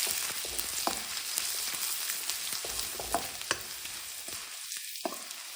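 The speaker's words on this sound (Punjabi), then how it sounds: "1 ਚਮਚਾ ਬਰੀਕ ਕੱਟਿਆ ਅਦਰਕ ਭੁੰਨ ਲਾਂਗੇ ਥੋੜਾ ਜਿਹਾ" Chopped garlic and ginger with asafoetida sizzle steadily in hot oil, a continuous close frying hiss with a few stirring scrapes and crackles, no voices.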